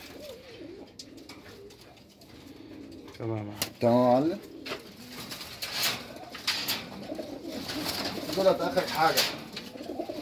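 Pigeons coo in a loft where birds are kept for sale, with several short throaty coos rising clearly nearby amid background noise while someone speaks in Arabic.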